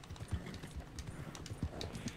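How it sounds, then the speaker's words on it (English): A slow horse's hooves clip-clop in the Western video game Red Dead Online, a quiet, steady rhythm of soft thuds at moderate distance. "This horse is so slow."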